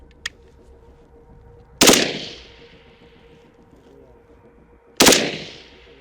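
A FAMAS rifle fires blindly in a video game, two sharp, loud single shots about three seconds apart, each ringing out with a decaying tail, preceded by a faint click.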